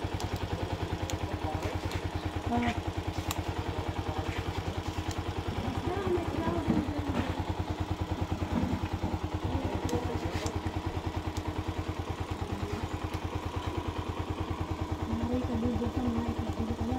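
A TMX Alpha 125 motorcycle engine converted to DC operation idles steadily nearby, a continuous low pulsing chug with light mechanical clatter and occasional faint knocks throughout.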